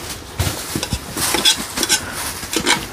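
Food sautéing in a pan in a rustic forest-area kitchen, with irregular stirring scrapes and clinks of utensil against the pan over a steady soft sizzle, close and fairly loud.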